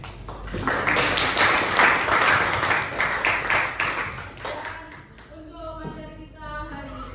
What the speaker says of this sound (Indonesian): Boleh kita tepuk tangan?